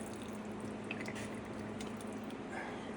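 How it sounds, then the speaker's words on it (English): Oil drips steadily from a Ford filter into a drip pan during ATV cart repair work, faint irregular drops falling over a low background hum with no talking. "As you can see, it's dripping out the one hole now, and the downside is now it drips on."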